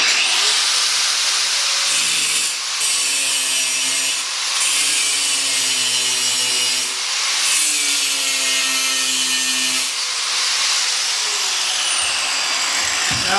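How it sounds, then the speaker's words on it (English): An angle grinder running off a Bluetti EB55 portable power station whines steadily and loudly for about ten seconds, its pitch dipping and rising under load with a gritty edge, then winds down and cuts out as the station overloads. "Let's try the angle grinder."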